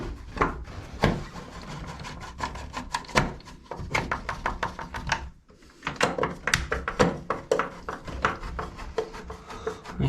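An electric shower unit is worked loose from a bathroom wall by hand with a screwdriver from a tool bag, giving a long run of close scraping, rubbing and small knocking sounds in irregular bursts with a brief pause midway.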